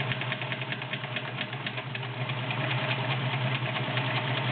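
A Nice Electro-Grand 1.3 amp cam sewing machine runs a stretch stitch, giving off a steady, close mechanical whir with a fast, even stitching pulse throughout and no talking.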